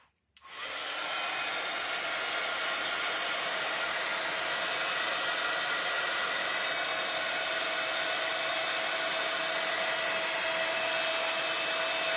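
A dryer blows steadily over a handmade stitched craft piece, a close, even whooshing roar that starts after a brief pause and holds unbroken to the end, with no talking.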